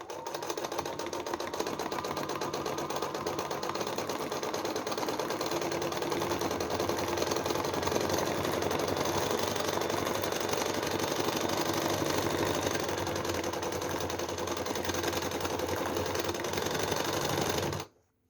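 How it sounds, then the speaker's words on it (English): A sewing machine runs continuously while free-motion stitching patchwork fabric for belts, a fast, even mechanical chatter held steady for the whole stretch before stopping abruptly at the end. "then you stitch the fabrics together like that"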